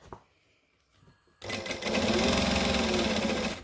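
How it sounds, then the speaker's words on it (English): After a quiet moment, a sewing machine starts up loud and close, top-stitching over a folded-under seam allowance to hold it flat, running fast and steady to the end. "I'm folding under this seam allowance, so I'm sewing on top of it to hold it flat"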